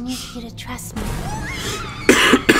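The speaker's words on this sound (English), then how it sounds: "I can't get rid of this cough." A couple of sharp coughs break out near the end, after a stretch of muffled voices and background noise, in the game Poppy Playtime.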